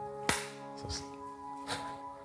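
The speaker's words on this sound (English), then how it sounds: "I'll do one uniform clap," At a live spoken-word performance an audience tries one unified clap, giving a sharp crack followed by two smaller, softer scattered hits, over a low steady hum.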